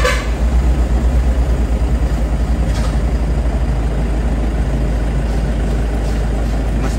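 A Toyota Hiace GL van engine runs at idle, a loud, steady low rumble with a regular pulsing throb throughout, no voices over it.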